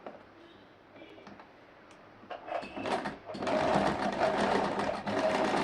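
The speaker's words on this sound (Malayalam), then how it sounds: "എന്നിട്ട് 1/2 ഇഞ്ചിൽ ഒന്നുകൂടെ ഡബിൾ സ്റ്റിച്ച് ചെയ്യുക." A sewing machine double-stitches canvas at a shoulder seam, starting with faint ticking and short runs, then settling into a loud, steady, continuous whir for the last few seconds.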